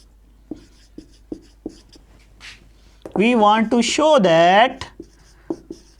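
Pen strokes on paper while a math proof about topology and power sets is written, heard as sharp, evenly spaced taps and scratches up close, broken by a short spell of someone talking.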